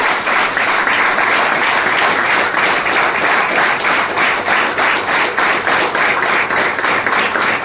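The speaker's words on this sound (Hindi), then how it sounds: "सागर सर के लिए एक बार ताली आना चाहिए" A seminar audience bursts into sustained applause, dense and loud, many hands clapping together steadily for several seconds with no pause.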